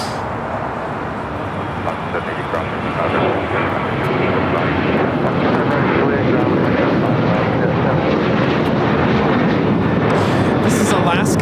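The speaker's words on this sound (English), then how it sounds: "This is Alaska Airlines 1430 taking off to Los Cabos on the 737-900ER in the One World livery" An Alaska Airlines Boeing 737-900ER in oneworld livery takes off from LAX for Los Cabos, its jet roar building after a few seconds into a loud, sustained rumble, with faint voices in the background.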